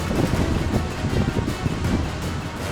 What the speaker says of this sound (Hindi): बांध और बैराजों से आफत बनकर आगे बढ़ता सैलाब